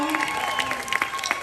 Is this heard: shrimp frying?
no